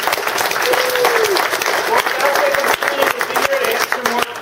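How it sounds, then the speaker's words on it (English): An audience applauds after a tech talk on complex real-time decisions, with steady, dense clapping filling the room throughout while a voice speaks over it. "I just want to first give a great big round of applause."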